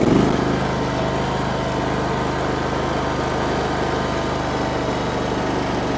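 A Chinese skid steer's engine runs hard at steady high revs, a loud, constant droning roar close by that holds without a break.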